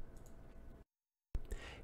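A computer mouse clicks on a button on screen: one or two small, sharp clicks follow a brief dead-silent gap, set against a faint background hiss.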